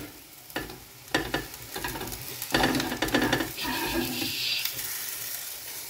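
Sizzling and spattering from sausages frying in a pan, up close, with bursts of stirring and scraping and a steady hiss beneath.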